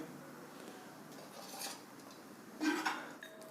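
Quiet clinks and scrapes of utensils against a pan as cooked aloo kanda poha is moved onto a plate, sparse light taps with a sharper metallic clatter near the end.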